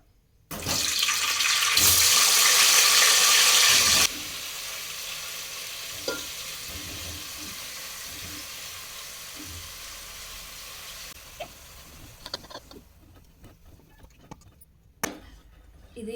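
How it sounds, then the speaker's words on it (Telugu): Tomatoes hit hot oil in a pan with a loud burst of sizzling for a few seconds, then a softer steady fry continues with occasional clinks and scrapes of stirring, fading toward quiet at the end. "ఇప్పుడు టమాటాలు అన్నీ వేస్తున్నా చూడండి"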